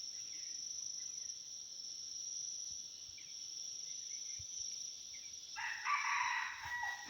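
Rooster crowing outdoors near the end, a single fairly distant call rising over a steady background of insects chirping, fairly faint overall with no talking.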